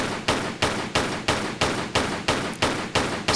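Gunshots are fired at a crocodile in the video game Tomb Raider III, about ten evenly spaced blasts in a steady rhythm, loud and close with short decaying tails and no talking.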